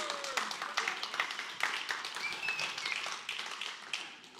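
A church congregation claps in a dense, steady patter that runs the whole time, with crowd voices and cheers mixed in and a few whistle-like tones rising over the noise.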